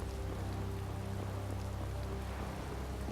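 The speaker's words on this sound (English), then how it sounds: "it is still raining" Steady rain in the video game Tales of Vesperia, a continuous hiss of falling drops over a low background hum, even and unbroken from start to finish with no voices.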